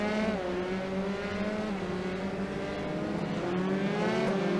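A Formula 3 race car in the iRacing sim powers out of a hairpin at Circuit Gilles Villeneuve, its engine a loud, steady high-pitched drone that rises and dips slightly with throttle, with no talk over it.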